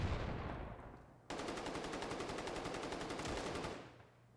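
Automatic gunfire from the WWII shooter game Battalion 1944: quiet ambience, then a sudden, loud, rapid burst of shots rattling steadily for over two seconds before tapering off.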